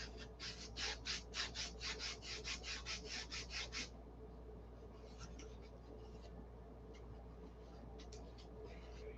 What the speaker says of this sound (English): why am I doing such a nice job sanding the inside of this